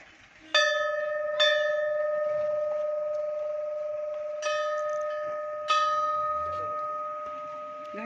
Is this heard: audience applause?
no